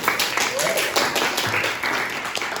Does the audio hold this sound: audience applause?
yes